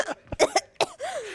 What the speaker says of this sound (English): Oh my God, he's coughing now.